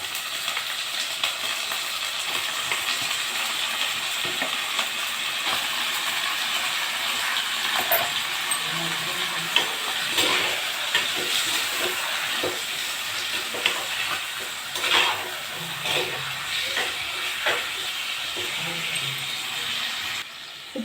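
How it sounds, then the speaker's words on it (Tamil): Chicken frying in a pan with sautéed onions gives a steady, moderately loud sizzle, with occasional scraping and stirring sounds and faint voices in the background. "இப்போ வந்து சிக்கன் போட்டுடலாம்"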